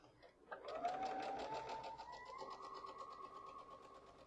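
A sewing machine runs steadily, stitching together three small fabric strips with a continuous whirring motor hum that starts after a brief pause and keeps a constant pace at close range.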